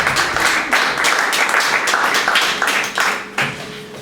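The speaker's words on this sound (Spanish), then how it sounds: "Un fuerte aplauso para ella, por favor" Applause for an actress at a live show in a bar in A Coruña, a burst of mixed clapping from a small audience that fades and restarts in uneven waves.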